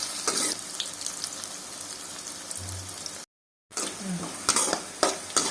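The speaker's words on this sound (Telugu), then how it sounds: "నూనె తాగినాక నూనెలో వేసుకుందాం. బాగా ఎర్రగా వచ్చేంత వరకు వేసుకుందాం." Bitter gourd pieces fry in hot oil with a steady close sizzle, interrupted by a few clinks and scrapes of a spatula against the pan and a brief moment of total silence midway.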